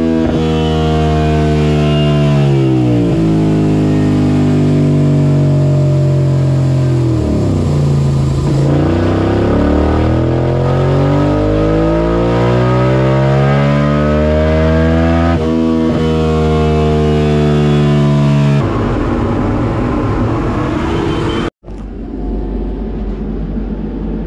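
A Suzuki SV650 twin-cylinder motorcycle on a dyno revs hard in rising power runs, its loud, close engine note climbing in pitch over and over before cutting off abruptly near the end, with no talk.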